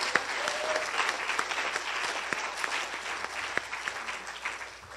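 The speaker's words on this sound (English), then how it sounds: "Let's give a clap." A group meeting audience breaks into applause, a crowd of hands clapping steadily with some sharper individual claps standing out, moderately loud throughout and fading slightly at the end.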